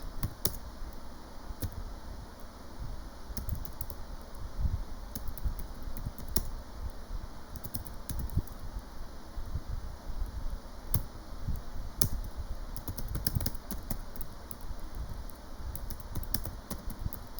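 Computer keyboard typing with irregular clicks and short bursts of keystrokes, steady and fairly close, over a faint hum, with no voices.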